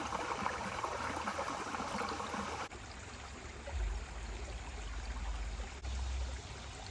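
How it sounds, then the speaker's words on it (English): A rain-swollen creek on a hiking trail flows steadily with a soft, continuous trickle and burble, moderately distant, and no voices. "see if I can cross this creek later"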